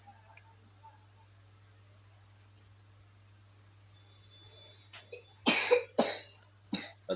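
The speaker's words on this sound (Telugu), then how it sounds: "దగ్గుతున్నావు కదరా" A child with a fever coughs several times in short harsh bursts near the end, after a quiet stretch of faint crickets and a low steady hum.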